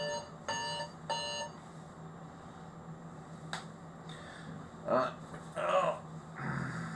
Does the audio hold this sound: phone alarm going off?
yes